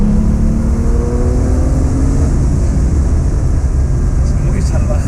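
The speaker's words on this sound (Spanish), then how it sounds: "quedaos con esta aceleración y con el sonido de este 911 Turbo" A Porsche 911 Turbo 930 engine accelerates hard, a loud, steady turbocharged roar with a rising tone that holds for several seconds.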